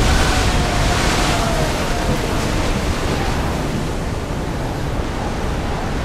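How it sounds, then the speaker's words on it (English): Wind and surging sea waves rush past a sailing ship in the Assassin's Creed Odyssey video game, a dense, steady roar of broadband noise with no breaks. "Head for over water! Woo! Feel that wind!"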